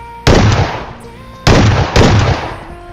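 Gunfire from the mobile battle game PUBG Mobile: three loud, sharp shots come in an uneven sequence, each followed by a ringing decay, all close and prominent.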